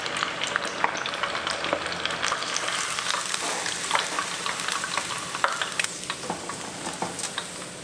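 Chicken tenders fry in vegetable oil, giving a steady, close crackling sizzle with scattered sharp pops and spits throughout, loud and continuous with no talking.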